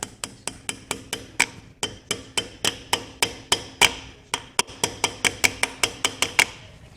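Light, rapid hammer taps on a tie rod boot of a 1972 VW Bus, a long run of crisp metallic ticks at a fairly even pace, close and clear with no talking.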